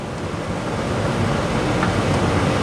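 Water poured into tomato gravy for a mutton kofta curry in a pot, a steady broadband rushing and splashing pour that fills the whole stretch at a constant level with no voices.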